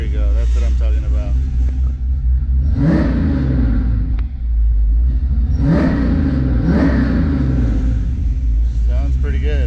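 A 1993 Ford Mustang foxbody GT engine running on a Microsquirt tune, a low idle rumble swelling into a couple of strong revs, heard close under someone talking.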